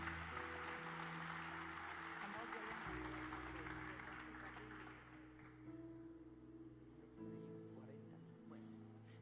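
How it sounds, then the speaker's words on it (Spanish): Church congregation applauding to welcome a woman pastor at an evening seminar service, a broad steady wash of clapping over low music and a sustained organ-like hum, fading somewhat toward the end. "Recibámosla con un aplauso a Dios"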